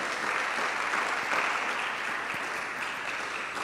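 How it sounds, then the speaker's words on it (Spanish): A crowd in a church service claps in sustained, dense applause that holds steady at an even level from start to finish, with no voices over it. "Denle un fuerte aplauso al Señor."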